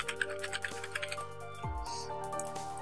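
Fast keystrokes tapping on a computer keyboard, a quick run of light clicks over the first second and a half, heard over steady background music.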